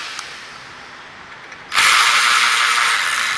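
A power tool fitted with a T30 Torx bit is used to back out the rotor retaining screw on a Volkswagen rear brake. After a brief quiet moment comes a sudden loud, steady mechanical whir close by.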